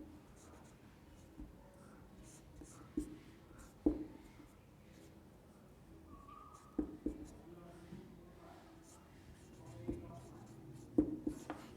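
A formula being written by hand, with soft scratchy strokes and a few sharper taps of the writing tool, interspersed with quiet talking.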